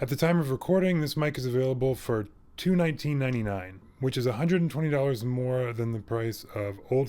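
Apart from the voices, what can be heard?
No everyday noise stands out behind the speech.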